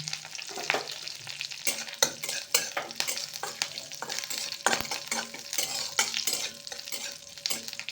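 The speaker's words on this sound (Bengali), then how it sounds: "রায়তা বানাবো তাই সামান্য তেল দিলাম এখানে কারি পাতা ফোড়ন দিচ্ছি কিছু শুকনো লঙ্কা দিলাম সর্ষে দিলাম" Curry leaves, dried red chillies and mustard seeds crackle and sizzle in a little hot oil for a raita tempering, with repeated sharp pops and spatters over a steady frying hiss, close and fairly loud, with no talking.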